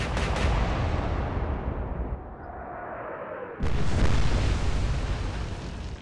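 Battleship 15-inch guns firing in the naval game Atlantic Fleet: a heavy, loud boom that fades into a rumbling tail, followed by a second massive blast and a long reverberating roar.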